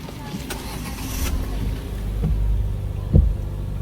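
A car engine cranks and rumbles into life after its alternator has been replaced, a low building roar rising from the garage with people talking nearby.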